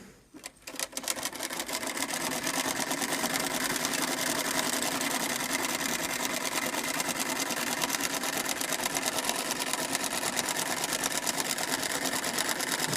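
A Singer 306 sewing machine stitches decorative scallops, starting up after a brief pause into a steady, close, continuous mechanical whir and rapid needle clatter that runs unbroken to the end.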